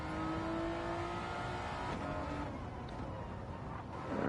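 A race car engine revs during autocross laps, a steady loud engine drone with shifting pitch that swells again toward the end, with no voices.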